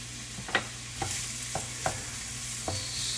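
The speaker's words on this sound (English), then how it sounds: "So we're going to cook this onion and the carrots down a little bit until they're nice and translucent." Carrots, onions and garlic fry in a pan with a soft, even sizzle, while a spoon scrapes and stirs in five or six sharp strokes at a steady pace.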